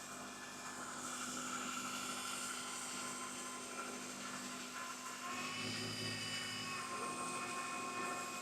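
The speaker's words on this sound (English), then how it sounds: "So I just heard the fan kick on. That fan is actually for the air conditioning system." A car's air conditioning fan runs during a refrigerant recharge, giving a steady whooshing drone with a constant hum, loud and unbroken throughout.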